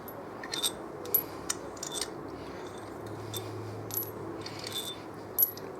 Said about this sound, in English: now you have them all undone, so literally just obviously lift the bolts out